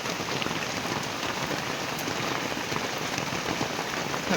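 Steady rain pours down on surfaces outdoors, a dense, even hiss that carries on without a break and with no voices.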